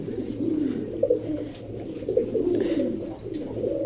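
A pigeon from a racing-pigeon farm coos close by in low, throaty rolling phrases, repeated several times with brief gaps and faint background noise.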